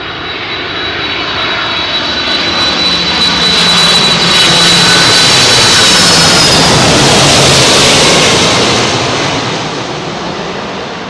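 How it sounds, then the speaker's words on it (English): A Boeing 767 jet on approach to London Heathrow passes low overhead at sunset, a loud roaring engine rumble that swells, peaks and slowly fades over about ten seconds, with no talk. "Boeing 767."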